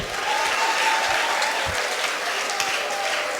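A church congregation applauding and cheering, a thick, sustained roar of clapping with faint crowd voices mixed in, steady and loud from start to finish.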